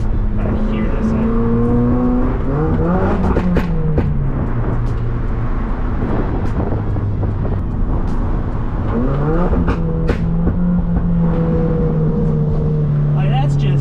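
Exhaust of a Subaru WRX car with an IFO exhaust revving in a small tunnel: a loud, close, steady engine drone with pitch rising and falling across several revs, echoing throughout.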